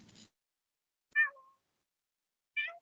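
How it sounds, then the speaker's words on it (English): A cat meows twice, two short separate calls about a second apart, clear against near silence after a brief faint noise at the start. "I thought I heard a cat"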